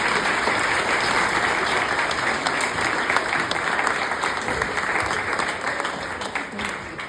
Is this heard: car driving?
no